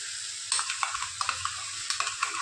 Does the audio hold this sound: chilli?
yes